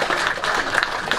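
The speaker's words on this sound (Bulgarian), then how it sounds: "да чуем вашите аплодисменти." Audience clapping for a newly named quizmaster, a short burst of moderately loud applause from a small crowd, with no voices on top.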